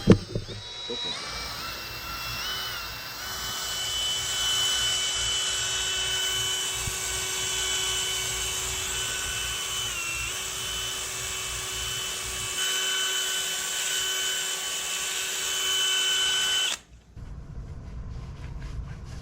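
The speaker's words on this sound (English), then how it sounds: "he's gonna go ahead and start polishing it" A power tool polishes a repaired aluminum wheel, giving a loud, steady high-pitched whine that runs for about seventeen seconds with slight pitch dips before cutting off abruptly, leaving a faint room tone.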